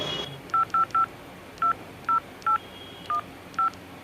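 Phone keypad tones beep one by one, eight short electronic dial tones at an uneven pace, clear against a quiet background.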